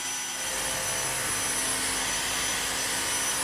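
A cordless cyclone vacuum cleaner picks up very fine dust from a hard floor with a steady, loud, high-pitched whine that holds constant throughout.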